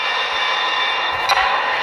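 A train in a video game rumbles past in a short, steady stretch of rail noise with a brief bump near the end, no voices over it.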